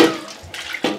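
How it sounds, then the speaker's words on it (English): Water splashes and pours into a saucepan during rinsing while Tuo Zaafi, stew and soup are being prepared, two short bursts of sloshing at close range with no talk. "So I'll rinse my saucepan and then pour it"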